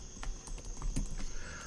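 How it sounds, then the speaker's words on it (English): Light typing on a computer keyboard running Windows 11, a few soft, irregular key taps at a low level with no talking. "we can click here then start typing settings"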